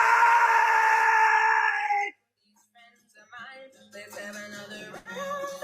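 A man screams loudly and continuously on a TikTok Live stream for about two seconds, a sustained strained cry that cuts off abruptly, followed by quieter scattered voices and noises.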